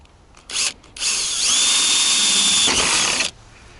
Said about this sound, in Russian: здесь нужно просверлить отверстие